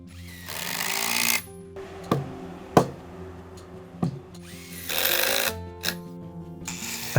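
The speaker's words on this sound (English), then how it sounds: "I cut the anchor bolts with a grinder." An angle grinder cutting anchor bolts on a woodshed sill, with bursts of loud, high grinding whine separated by quieter spin-down and several sharp metallic knocks, close by.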